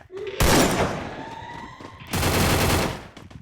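Gunfire aimed at the player in a shooting video game arrives in two dense, close bursts of rapid shots with a wailing tone between them.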